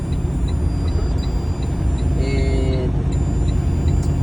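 A semi truck loaded to about 89,000 pounds drives on the road, heard as a loud steady engine drone and road rumble from inside the cab.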